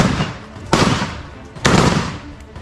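Two loud, sharp gunshots in war footage, spaced about a second apart, each cracking out over a rumbling background and decaying slowly, with no voices.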